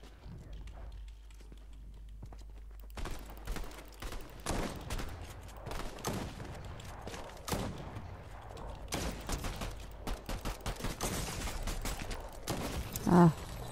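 Rapid bursts of gunfire from a player shooting in a French-played online shooter match, repeated sharp cracks at steady moderate loudness over game ambience, with a louder burst near the end.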